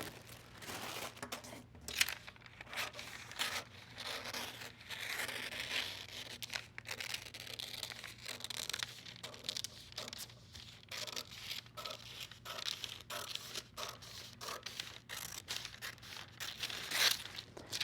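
Paper sewing pattern piece for a slant pocket being cut out, with steady crisp snipping and rustling of paper going on continuously and close by, including occasional sharper crinkles.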